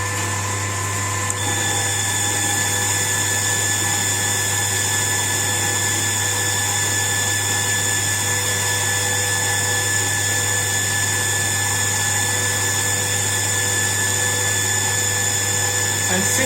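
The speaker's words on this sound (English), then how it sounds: "And again we are going to use both pumps, so I will switch them both." Two water pumps run together in an experimental water-flow rig, giving a loud, steady mechanical hum with sustained tonal whine. It stays constant throughout after a slight shift in the first second or so.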